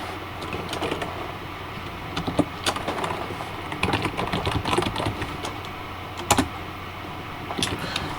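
Typing a command on a computer keyboard into a terminal, with irregular clusters of light key clicks and occasional firmer taps, close and fairly quiet, with no talking.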